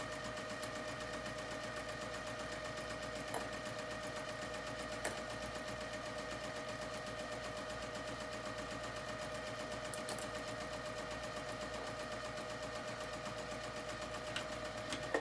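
A sewing machine runs steadily, stitching a 1/2 inch seam at a tight stitch length along the edge of a dress. The hum stays even and close throughout with no pauses and no voices.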